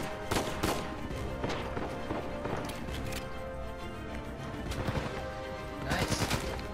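Gunfire from the video game Uncharted 4 rattles through a combat scene, with repeated sharp shotgun and rifle bursts in irregular clusters over continuous game noise.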